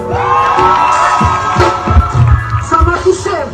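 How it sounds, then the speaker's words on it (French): A lively audience cheers and shouts with whoops over a sustained musical tone, loud and close, with the crowd noise swelling in bursts. "On applaudit pour ça."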